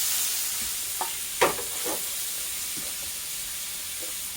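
A cooking utensil breaks up food in a pan over medium-high heat, giving a steady close sizzle with a few soft scrapes and taps.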